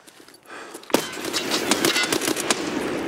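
A grenade explodes in Escape From Tarkov, a sharp loud blast just under a second in, followed by crackling, popping bursts and debris that continue to the end.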